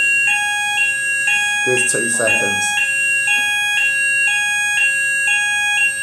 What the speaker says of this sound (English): The longest fire alarm in history.